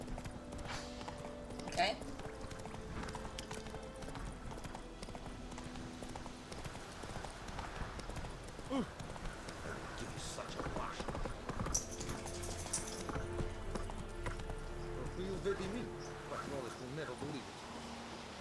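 Steady horse hoofbeats clip-clop in a continuous rhythm in The Witcher 3 video game against a faint insect-like buzz, with a brief spoken word partway through.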